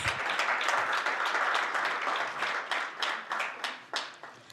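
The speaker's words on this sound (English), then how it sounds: "Let us give another round of applause." An audience applauds during an Africa CDC Southern Africa regional meeting in Windhoek, Namibia. The clapping is steady and full, then thins into scattered, separate claps as it dies away.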